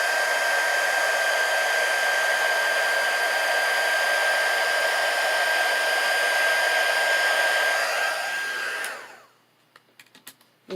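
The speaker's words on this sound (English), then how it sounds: "Heat tool." A heat tool blows hot air to melt embossing powder, a steady loud whooshing hum with a fixed whine, running for about nine seconds before shutting off, followed by a few faint taps.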